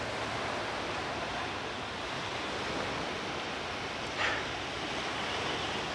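Sea waves at the seaside, a continuous broad wash of surf noise filling the whole stretch, steady and unbroken with a slight brief swell near the end.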